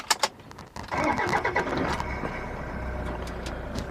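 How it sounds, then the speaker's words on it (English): A few clicks, then the diesel engine of a 2008 Toyota Hilux 4x4 cranks and catches, settling into a steady, rumbling idle close by. "let's start the engine"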